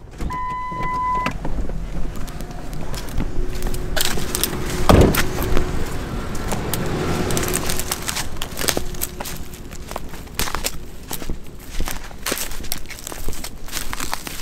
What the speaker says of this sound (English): we're in the truck driving some bean fields, and Ty spots another one out his window